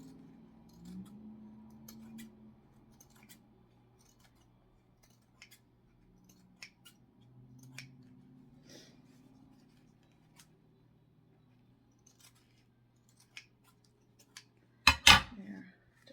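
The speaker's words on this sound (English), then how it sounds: "Just want to trim some of this extra stuff from down here." Scissors snip excess material from a handmade craft gnome, a quiet cluster of sharp cuts near the end after mostly faint handling noises.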